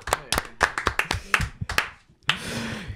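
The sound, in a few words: clapping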